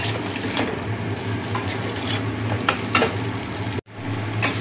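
Chicken frying in a pan after the pasta, a steady loud sizzle close up with occasional scrapes and clinks of stirring, and a brief dropout near the end before the sizzling resumes.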